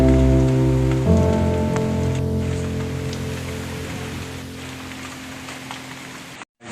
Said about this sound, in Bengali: বাইরে এত বেশি পরিমাণে বৃষ্টি হচ্ছে